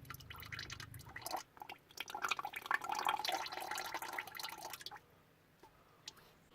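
Oil from a Jeep Wrangler JK CRD diesel catch can draining out, faint close trickling and dripping that runs for several seconds, then stops, leaving a few isolated drips.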